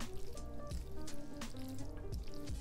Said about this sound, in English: we all know that's the sound of good vegan mac and cheese